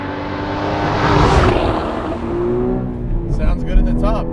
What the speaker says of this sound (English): A lot of people talk about that natural aspirated sound